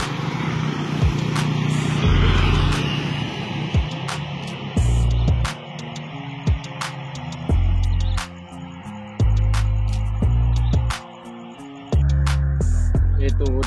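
Buses, a Kurnia among them, pulling away at an Aceh toll gate, heard as repeated loud bursts of deep engine roar with horn-like tones, separated by quieter stretches of background noise.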